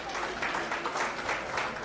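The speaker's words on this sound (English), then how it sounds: "So we will join you with claps." Audience at an Indian bank employees' federation youth and women convention clapping steadily along with performers singing, a dense continuous patter of many hands filling the hall at moderate loudness.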